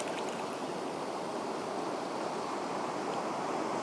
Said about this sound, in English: Always watching the waves, so I can see a wave coming now.